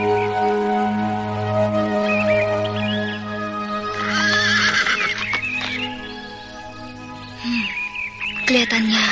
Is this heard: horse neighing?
yes